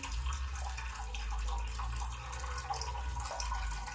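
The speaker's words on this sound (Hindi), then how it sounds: "ये देखिए पानी डालेंगे।" Water poured into a pressure cooker holding rice, a steady broadband splashing and trickling that runs unbroken and fairly close for the whole stretch.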